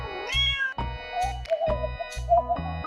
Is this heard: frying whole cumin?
no